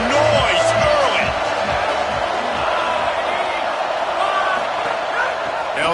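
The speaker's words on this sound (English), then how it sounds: "This crowd bringing the energy and noise early." A college football stadium crowd roars during UCLA versus Northwestern, a loud constant wash of cheering from a mass of fans, with commentary spoken over it.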